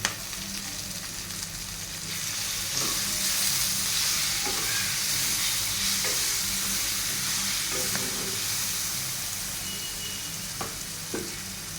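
Curry leaves sizzle and fry in hot oil in a pan, a loud, continuous crackling hiss with occasional soft clinks of stirring, heard close with no talk.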